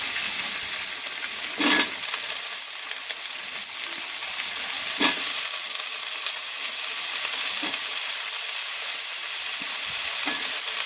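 Potatoes frying in hot oil in a home kitchen pan while a fish curry with vegetables is being cooked, giving a steady broadband sizzle with a few sharper spits and clatters, moderately close and with no talking.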